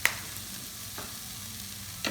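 About a teaspoon of cumin sizzles in a hot pan for arroz con pollo, a soft steady frying hiss with a couple of light stirring clicks, close and quiet with no talking.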